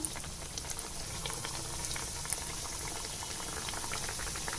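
Veg puffs fry in hot oil in a kadai with a dense, steady bubbling sizzle that carries on throughout, close and fairly loud, with no voices.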